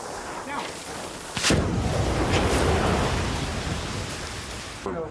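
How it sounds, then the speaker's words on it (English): A film set fire effect burns a dummy skeleton for a vampire death scene, with a sudden loud whoosh and roar of flames that bursts in and crackles steadily for several seconds. "what we're doing here is we have a dummy of a skeleton"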